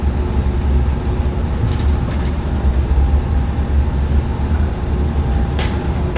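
Airbus A321 taxiing in a flight simulator, a loud, steady engine rumble and rolling drone with faint high whine, continuous and close with no voices.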